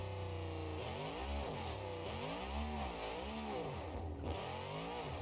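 A twincharged monster truck engine in BeamNG.drive revs repeatedly, loud buzzy rising and falling surges over a steady idle drone, the pitch swooping up and down in several cycles with a brief dip near the end.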